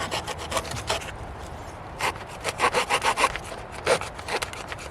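A Leatherman Signal's saw blade cuts into cedar wood, giving rapid back-and-forth rasping strokes in uneven bursts, close and crisp, with no talking.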